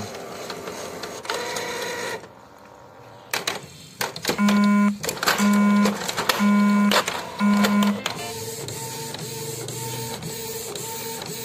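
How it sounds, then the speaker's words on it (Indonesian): A Canon IP2770 inkjet printer prints onto PET film, close and loud, with rhythmic mechanical whirring passes and several repeated tonal buzzes from the carriage moving back and forth, then a quieter steady running hum. "ini proses cetak yang kedua"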